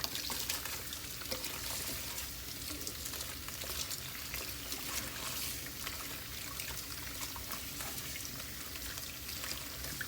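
Tap water runs steadily over peppers being washed for Puerto Rican sofrito, a constant bright splashing rush with no voice over it.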